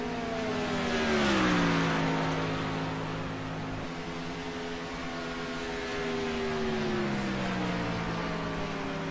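Mazda MX-5 Roadster race cars on a circuit, their engines whining through rising and falling gear changes as they pass, loud and sustained, with a Doppler-like swell early on and no talking.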